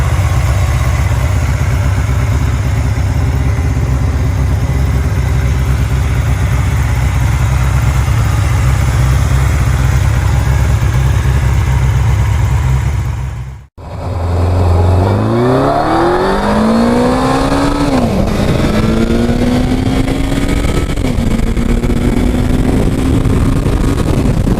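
Heavy classic motorcycle engine, a big bike of about 270 kg, idling with a steady low throb, then after a brief cut climbing through rising revs in repeated sweeps, close and loud with no talk.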